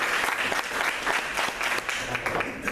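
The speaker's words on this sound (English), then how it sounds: "give a round of applause" An audience at a panel and Q&A event claps for the first speaker being introduced, a dense, steady burst of applause filling the room for a few seconds with no talking over it.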